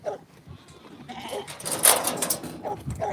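Ewes and lambs bleat on a sheep farm, several overlapping calls at moderate distance that build toward the middle, set against an outdoor farmyard background.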